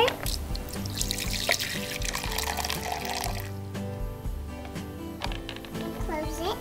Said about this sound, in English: And then add in your water.